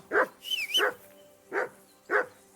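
A dog barks in the video game Kingdom Come Deliverance 2, four sharp, fairly close barks spaced unevenly, with a faint whistling tone between the first two.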